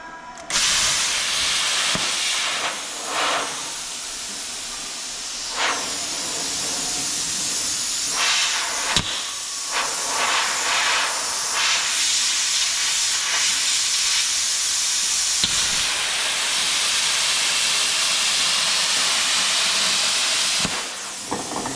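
A cutting tool working through light metal during a test cut, giving a steady loud hissing, spraying roar that runs almost unbroken for about twenty seconds with a few brief dips and sharper bursts.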